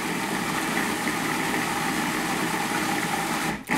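A blender grinds gazpacho vegetables with a steady, loud motor roar that runs without pause, then briefly dips near the end.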